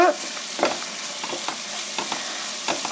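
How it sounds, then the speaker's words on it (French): A couscous dish being stirred in a pan, with soft scraping strokes recurring every half second or so over a steady low sizzle, close and fairly quiet. "on va revenir touiller encore un peu"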